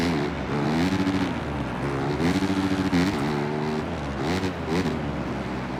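A dirt bike engine in Monster Energy Supercross 25 drones and revs up and down as the throttle is worked, a loud continuous motor with shifting pitch and brief surges.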